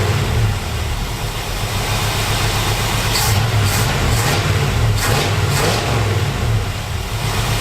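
A worn-out Chevrolet El Camino's engine runs steadily nearby, a loud continuous low rumble that holds an even idle throughout.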